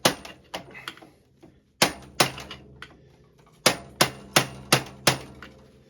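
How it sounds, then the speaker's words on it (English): A mallet whacking a rear suspension part on a 2001 Yamaha Venture SXR 600 snowmobile, a series of sharp close knocks in irregular clusters with brief pauses, some strikes louder than others. "We just got to keep whacking her, either with a mallet or something."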